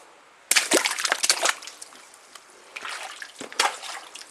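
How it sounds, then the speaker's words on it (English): Floodwater trickling into a building through the side wall, an uneven close splashing and dribbling with bursts of sloshing that rise and fade, no voices heard. "We got water coming in the side."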